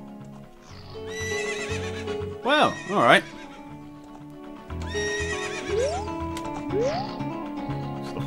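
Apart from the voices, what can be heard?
horses neighing and clip-clopping in Zelda Ocarina of Time video game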